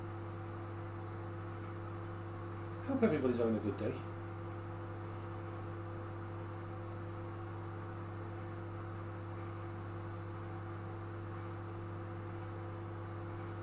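A microwave oven hums steadily in the background of a home kitchen, a constant low drone with a short burst of speech from a man partway through.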